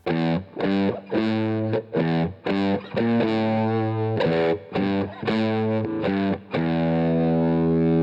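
Heavily distorted electric guitar chugs out a riff in short stabbed chords, ending on a longer sustained chord.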